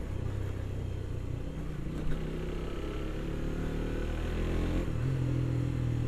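A motorcycle engine held at high revs drones steadily and close, swelling slightly toward the end, with no voices.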